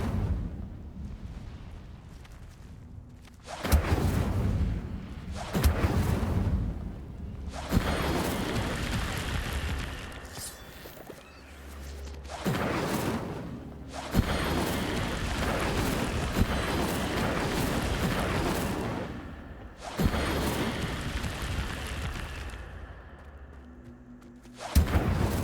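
The Incendio fire spell from Hogwarts Legacy is cast repeatedly, each one a loud roaring whoosh of flame lasting a few seconds, several bursts separated by brief quieter gaps.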